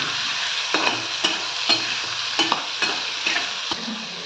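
Battered prawns fry in hot oil with a loud, continuous sizzle, punctuated by about half a dozen scraping strokes of a spatula stirring them in the pan; no voices.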